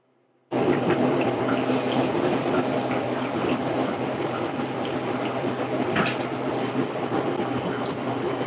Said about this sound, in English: And we should have beer flowing.